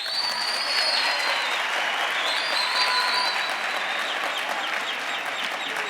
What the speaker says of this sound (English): please clap your hands